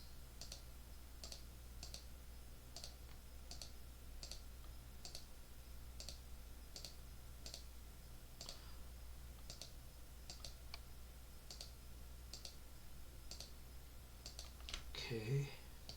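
Mouse clicks selecting surfaces with a surface filter in ANSYS thermal-analysis software: a steady series of light, crisp clicks at a quiet desk, close but soft, with a brief louder shuffle near the end.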